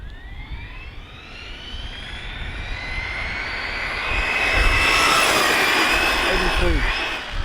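An ARRMA Mojave 6S BLX brushless RC car on a 20T pinion speeds past outdoors, its high-pitched motor whine sweeping upward and swelling as it nears, loudest around the midpoint, over steady wind and ground rumble.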